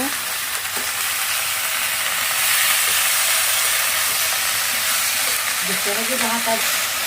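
Vegetables with onion and green chillies sautéing in spices in a pan, a steady close sizzle and hiss throughout with occasional stirring clatter, and a faint voice near the end.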